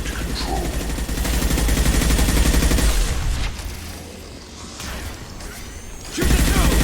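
Sustained automatic gunfire and explosive combat noise from the Mass Effect 2 video game, loud and dense, with a brief lull before heavy firing resumes at the end.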